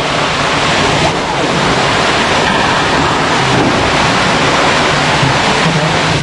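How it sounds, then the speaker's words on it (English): A waterfall at the bottom of a deep cliff abyss roars as a loud, constant, broadband rush of falling water, steady throughout with no breaks. "Let's take a look at the waterfall below."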